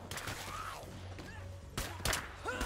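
A couple of sharp, loud gunshots in the State of Decay video game, spaced apart over quiet background sound, with faint voice-like sounds from the game.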